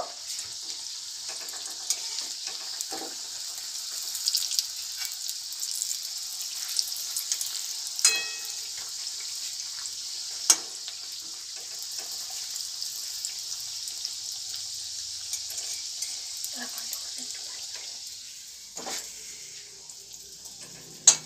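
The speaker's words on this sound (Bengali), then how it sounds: "তো এইটা আরেকটু লাল করে ভেজে নেব।" Soft, steady sizzling of malpua batter frying in hot oil, with occasional pops and light clinks of a utensil, no voices.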